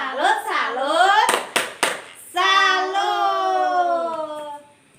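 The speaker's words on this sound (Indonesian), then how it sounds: "Tepuk salut dulu kita Bu untuk kelompok, semua kelompok." A group performs an Indonesian tepuk salut clapping chant: a voice chants in drawn-out tones, broken by three sharp, close hand claps in quick succession.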